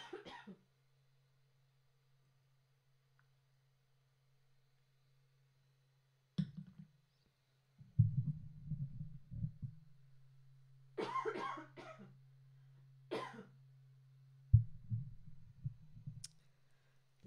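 A few dry coughs and throat-clearing sounds come in scattered bursts over a low steady hum, fairly quiet, with long silent gaps between them.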